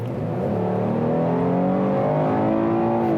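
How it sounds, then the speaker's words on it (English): A 2020 Chevy Blazer RS accelerates hard from inside the cabin, its engine note rising steadily in pitch and loudness over about three seconds, with no one talking. "Let's check out the acceleration,"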